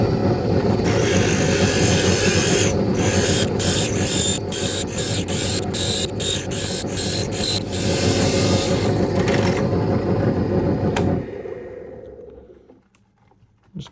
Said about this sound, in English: And let's drill a hole.